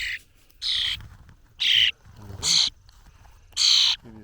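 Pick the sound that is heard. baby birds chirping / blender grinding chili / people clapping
baby birds chirping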